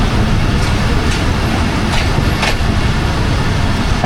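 Thal Express passenger train standing at a railway station in Pakistan, a loud continuous rumble and rattle of the rail cars, with a few sharp clanks cutting through the dense, even noise.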